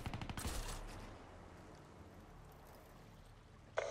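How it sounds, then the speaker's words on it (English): Automated sentry gun firing in a multiplayer shooter: a rapid, rattling burst at the start fades into quieter background ambience, then a sharp brief crack near the end. "Go, sentry gun, go."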